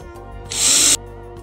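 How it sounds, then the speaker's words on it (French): A brief burst of a power drill whining for under half a second, loud and close, amid a quiet background. "J'ai déjà installé la perceuse. Bon là elle est en mode sûreté. Hop. Et je vais pouvoir faire des trous."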